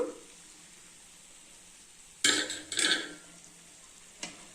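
Sweet maida bonda for a tea-stall recipe frying in hot oil, a low steady sizzle broken by two bursts of ladle stirring and scraping midway and a short knock near the end.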